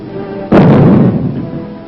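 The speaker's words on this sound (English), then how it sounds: "the first atomic bomb struck an enemy target" The atomic bomb bursting over Hiroshima in August 1945 is heard as a sudden loud, deep boom that erupts after a brief hush and rolls into a long, fading rumble, with a dull, muffled old-film quality.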